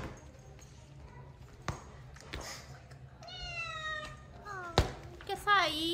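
A small kitten meows several times in quick succession near the end, with rising, wavering cries over background voices and household noise.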